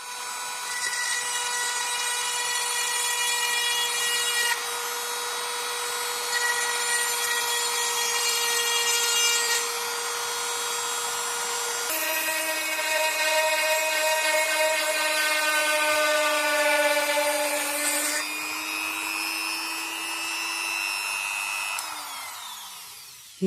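A hand drill bores through a hard material in a workshop, a steady loud grinding whine with shifting pitch that runs continuously for the whole stretch, changing tone every few seconds and tailing off at the end.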